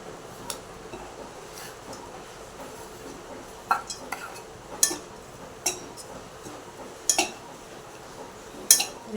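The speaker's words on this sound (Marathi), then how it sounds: "पहा गोल टाकून असं हलवून घ्यायचं गुळ वितेपर्यंत" A metal spoon stirs grated fresh coconut and jaggery in a pan, giving a low scraping bed punctuated by scattered sharp clinks against the rim, close and without speech.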